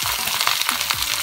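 Onion, garlic and tomato sizzle and crackle in hot oil with lightly fried potato and eggplant, a continuous close frying hiss with small stirring scrapes and no voices.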